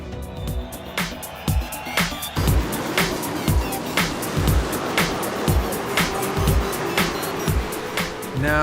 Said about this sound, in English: Drifting the new Supra for the first time.